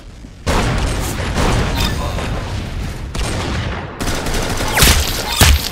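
Rapid gunfire in the Roblox game Arsenal, dense loud bursts of shots running almost continuously, with heavier booming blasts near the end and no voices.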